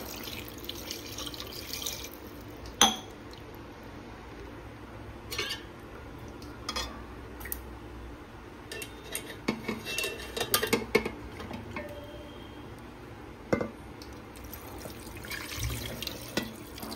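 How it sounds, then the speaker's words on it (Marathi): Water poured into sautéed chicken in a pressure cooker for biryani: a soft, quiet stream of running water with occasional clinks of utensils and pots, fairly faint and without talk. "चिकनमध्ये आपण पाणी टाकूया।"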